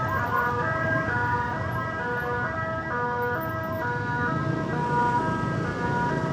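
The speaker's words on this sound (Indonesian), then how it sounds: "Nih nggak tahu ambulan kemana nih" An ambulance siren wails through Jakarta traffic, its stepped tones repeating over a steady road rumble of passing vehicles. It sounds moderately close and continuous, with no talk over it.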